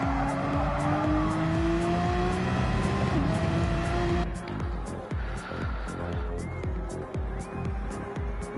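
A Gr3 race car in a racing video game powers into the final turn with a loud, continuous engine roar and tire squeal, gear changes stepping the pitch, while a commentator talks over it.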